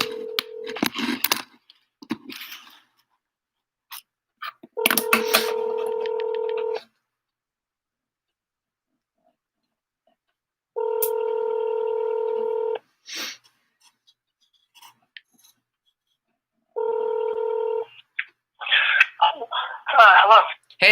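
A phone call is placed with several separate ringback or dial tones, each lasting about two seconds and spaced by pauses. Coughs, throat clearing and short bursts of speech come in between.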